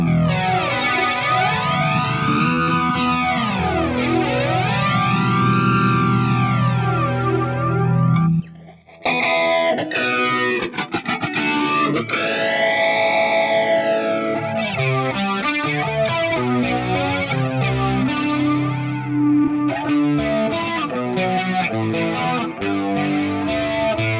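An electric guitar played through an Axe-Fx III with a dirty, distorted tone and a flanger sweeping in slow, rising-and-falling arcs over sustained chords and picked notes, loud and continuous, with a brief gap partway.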